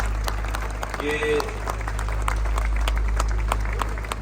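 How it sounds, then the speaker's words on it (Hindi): Audience applause at a gathering in an old age home, a steady patter of clapping running through the whole stretch over a low hum, with a voice speaking briefly partway through. "इनके लिए जोरदार तालियां होनी चाहिए"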